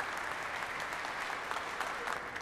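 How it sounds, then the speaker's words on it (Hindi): Steady, moderately soft applause from a studio audience at the close of a BBC Urdu talk show, an even rush of many clapping hands without speech. "एक दफ़ा उनके लिए ज़ोरदार तालियां हो जाएं और अपने लिए भी बजाइए"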